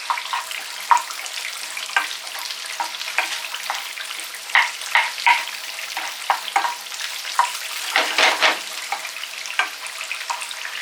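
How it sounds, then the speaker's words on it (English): Onions fry in a little oil in a small pan, giving a close, bright sizzle dotted with sharp pops and spits that come in uneven bursts throughout. "just get a small pan, put a little bit of oil, and then chuck the onions in"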